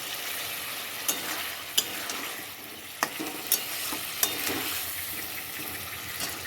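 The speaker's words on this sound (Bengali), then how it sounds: "আলুটা দিয়ে একটুখানি অল্প করে কষিয়ে নেব" Potatoes are sautéed in an oiled pan with salt for a Bengali fish curry, giving a steady crackling sizzle broken by several sharp spoon clicks and scrapes against the pan.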